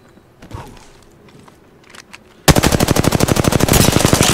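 Rapid automatic gunfire from the Apex Legends video game, a loud fast burst of evenly spaced shots that starts abruptly after a quiet stretch of faint movement sounds.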